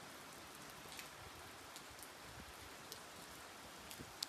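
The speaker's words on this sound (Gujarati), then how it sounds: "વરસાદ જો કેટલો બધો પડી રહ્યો છે" Rain falls steadily outdoors as a soft, even hiss with scattered drop ticks, fairly faint and unbroken, with no voices.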